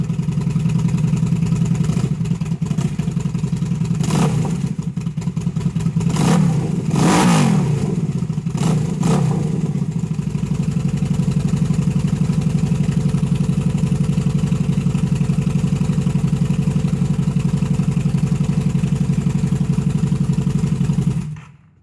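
A Harley-Davidson V-Rod motorcycle engine runs steadily at idle after an oil change, a few throttle blips early on, then settles into a constant low rumble until it cuts off at the end.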